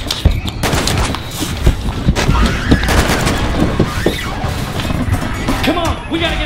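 Gunfire rattles through a zombie attraction in California as a dense, close run of sharp shots, with voices shouting over the chaotic crackle.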